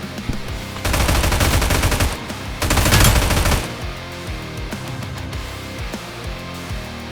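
SIG MCX 5.56 assault rifle on full auto in New State Mobile: two loud sustained bursts of rapid fire, each about a second long, set over a driving music track.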